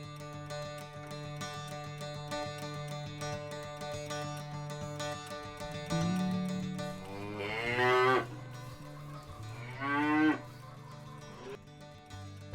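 Cattle moo in a farm setting, several long low calls rising into two prominent drawn-out bellows near the end, fairly close and clear with no speech.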